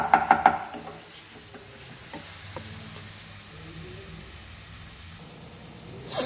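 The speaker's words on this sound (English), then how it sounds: "Fry this for around 5 minutes nicely." Pork sorpotel frying in Goan green masala, a loud burst of spoon clatter and sizzling at the start, then a steady low frying hiss with occasional stirring knocks.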